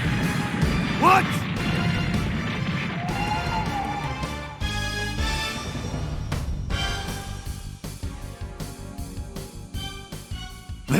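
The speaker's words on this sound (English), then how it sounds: "They're smashing right through the walls." In an anime scene from Hunter x Hunter, walls are smashed through with repeated heavy crashes and thuds, mixed with dramatic music and characters speaking.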